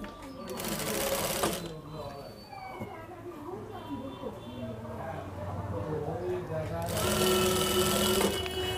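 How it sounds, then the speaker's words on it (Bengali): A sewing machine stitches a Panjabi (kolidar style) garment, with loud whirring runs at the start and the end. Between them, a person talks quietly while the fabric is handled. "এখানে সেলাই করার সময় যতটুকু সম্ভব চিকন করতে হবে এবং পাকাও করতে হবে সুন্দর করে"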